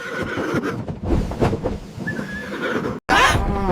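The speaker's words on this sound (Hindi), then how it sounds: "ये घोड़ा है।" A horse neighs loudly and close, a drawn-out whinny with a sharp high squeal near the end.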